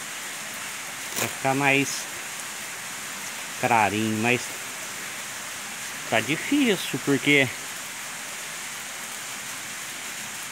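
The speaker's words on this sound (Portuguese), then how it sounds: "Muita água escorrendo, fazendo um barulhão." Water rushing and dripping steadily inside a cave with an underground waterfall in Ilicínea, Minas Gerais: an even, rain-like roar under intermittent speech from a man.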